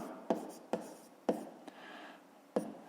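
A pen writes a maths solution on paper, giving four or five short, crisp scratching strokes close up, separated by quiet gaps, with no voices.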